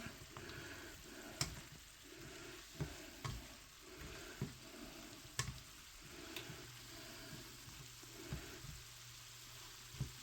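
Shrimp for a stir fry sizzle steadily in a pan, with repeated scraping and stirring knocks as they are mixed around, close and fairly quiet, with no talking.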